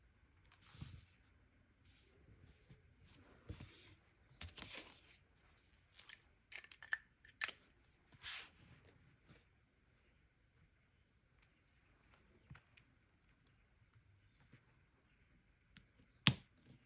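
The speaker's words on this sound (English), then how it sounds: "just put it all across the top here and trim it down." Scissors snip a strip of washi tape on a planner, a series of quiet, close, crisp cuts and small paper rustles scattered across a mostly hushed stretch, ending with one sharper snip.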